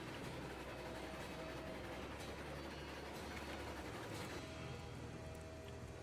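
A train rolls along rails in Railroads Online, a steady, quiet rumble with faint clatter running throughout and no talking.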